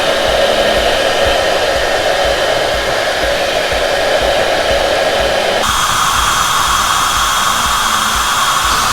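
A hair dryer blows continuously and loudly up close while hair is being brushed, a steady rushing whine whose tone shifts abruptly partway through as the setting or angle changes.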